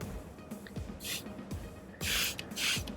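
Bleach is sprayed from a spray bottle onto a sublimated shirt, with a few short hissing bursts of mist, some close together, alongside light handling noises.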